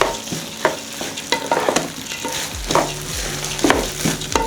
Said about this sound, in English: Stir together.